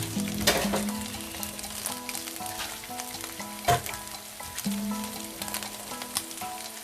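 Salmon fillets and prawns sear skin-side down in a hot pan for a South Indian dish, a steady close sizzle with brief louder spits and stirring scrapes running throughout, no voices.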